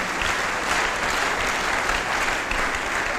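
A church congregation applauding, dense, continuous clapping from many hands filling the room at steady loudness, with faint voices mixed in.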